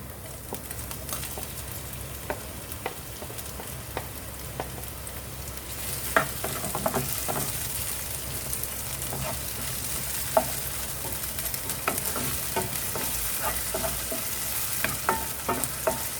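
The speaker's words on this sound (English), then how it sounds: "Saute the tomatoes until it is very soft." Tomatoes added to soft onions sauté in a pan for Indian street-food ragda pattice, giving a steady close sizzle with scattered crackles and occasional light spoon scrapes, growing busier partway through, with no talking.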